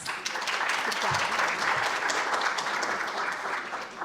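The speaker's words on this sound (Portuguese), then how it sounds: "Vamos acolher com uma salva de palmas." Audience applause welcoming a professor to the panel at a talk on communication ethics; a dense, steady wash of many hands clapping at even loudness throughout, with no clear speech over it.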